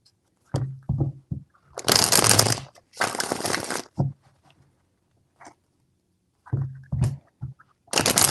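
Tarot cards being shuffled in a few bursts of riffling and flapping, close and fairly loud, separated by short pauses with small taps and handling noises.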